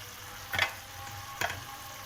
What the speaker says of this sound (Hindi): और प्याज डाल के फ्राई कर लें।